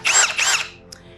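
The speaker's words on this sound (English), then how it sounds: "I went and got my auger. I'm gonna dig a hole." A power auger bores into backyard soil to set posts for a raised garden bed. Its loud whining drill motor runs in a strong burst of about half a second, then cuts out, followed by a faint tick.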